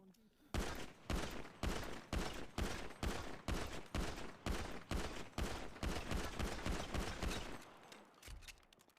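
Rapid gunfire from a weapon in a first-person shooter video game, a steady burst of loud, evenly spaced shots lasting several seconds, then a few scattered shots as it trails off.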